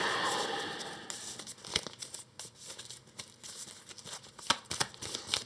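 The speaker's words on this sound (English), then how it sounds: "then we'll shuffle these 2 into the path deck." Game cards being shuffled into a path deck for a solo session of the Earthborne Rangers card game, heard as close, soft papery riffles and crinkles in uneven bursts with no talking.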